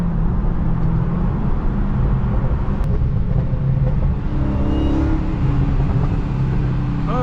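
A 6.2-litre SRT Hellcat engine drones steadily as the car cruises down a street, a constant loud low rumble filling the whole stretch with road noise mixed in.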